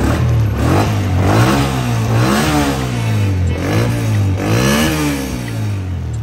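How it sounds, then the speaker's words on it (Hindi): A single-cylinder Honda CG 125 motorcycle engine, freshly filled with oil, revving up and down in repeated waves, loud and close, with no voices. "ऑयल डाल लिया बाइक में, मैं आपको अभी इसका साउंड चेक कराता हूँ"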